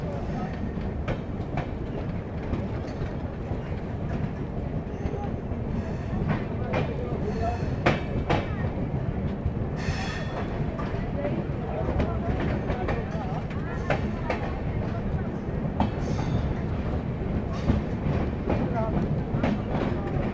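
A train rolls past at a crowded Indian railway station, a steady rumble and rattle of wagons that continues throughout, with people talking over it.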